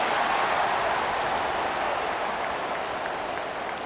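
A stadium crowd in the College Football 26 game, North Texas versus Temple, sends up a dense, continuous roar like distant applause, loud and unbroken, with no voices standing out.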